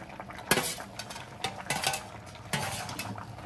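Chicken gizzards go into a pan and are stirred with spices, with a spoon scraping and clinking against the metal in sharp, irregular bursts over a faint sizzle.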